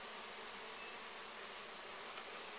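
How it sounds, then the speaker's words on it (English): Honeybee drones and workers buzz in a dense, continuous drone inside a truck, a steady close swarm hum with no pauses and no voices. "That's a drone, and that's a drone right there."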